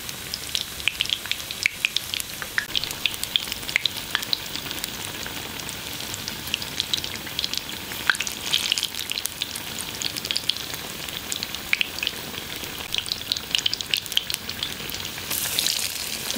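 Onions fry over medium heat with a steady, close crackling sizzle, dense tiny pops spread evenly throughout and no voices.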